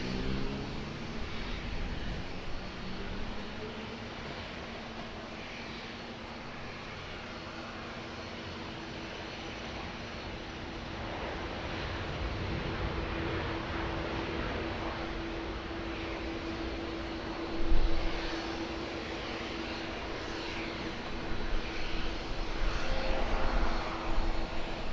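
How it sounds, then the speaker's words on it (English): A Boeing 787-9 jet airliner roars overhead on approach at Auckland Airport, a sustained broad rumble with a steady whine, swelling louder toward the end as it passes. "the next one that we missed was this Boeing 787-9 arrival."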